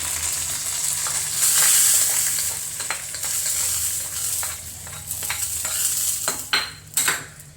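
A mixture for green plantain is poured into a hot pan on the stove, setting off a loud, continuous sizzle with clinks and scraping of a utensil against the pan toward the end.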